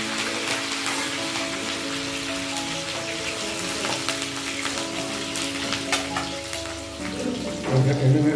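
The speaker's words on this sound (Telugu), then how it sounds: "కొంచెం వేగుతున్నాయి" Dried red chillies, green chillies and tempering spices fry in oil for a brinjal dish, giving a continuous close crackling sizzle with scattered sharper pops.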